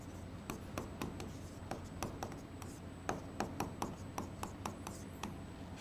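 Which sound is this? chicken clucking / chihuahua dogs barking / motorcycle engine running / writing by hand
writing by hand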